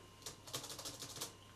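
Keys clatter quickly on the keyboard of an old Thinkpad 760XL laptop, a close, quiet burst of rapid clicks over a low background hum.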